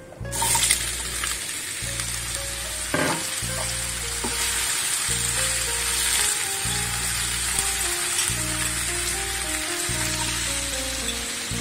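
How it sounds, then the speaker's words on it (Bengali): Water lily stems and mung dal frying in hot oil give a steady, dense sizzle throughout, with a few soft stirring knocks against the pan partway through. "ভাজা হয়ে গেছে, এবার আমি এর মধ্যে শাপলাটা দিয়ে দিচ্ছি।"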